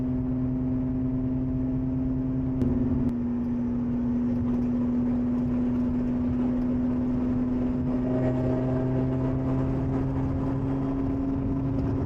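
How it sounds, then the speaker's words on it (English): A Lotus Emira V6 sports car engine drones steadily with a low exhaust hum from close behind, holding a constant pitch with a slight shift partway through. "getting used to the engine noise and the exhaust noise so close behind you"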